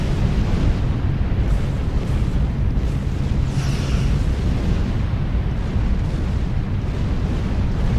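Starship weapons fire at enemies in the Star Trek Online video game, a dense, continuous roar of booming blasts and rumbling explosions that stays loud and steady throughout.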